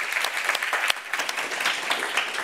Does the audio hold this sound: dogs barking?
no